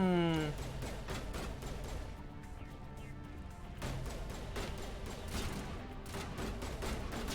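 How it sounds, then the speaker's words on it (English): Gunfire in Mass Effect Legendary Edition rattles in dense, repeated bursts after a short rising tone, continuing steadily at moderate volume while voices talk over it. "y'all are shooting at where they are"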